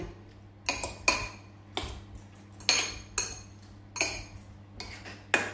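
Scallop tartare being mixed in a bowl, heard as a spoon clinking and scraping against the bowl in repeated irregular strokes, close and fairly quiet, with no voices.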